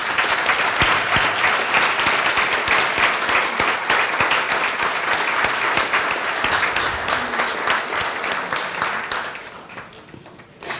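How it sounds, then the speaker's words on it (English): Audience applause at a TEDGlobal 2017 talk honoring a woman who marched at Selma, a loud, dense round of clapping that holds steady for about ten seconds before fading near the end. "Can we give her a round of applause?"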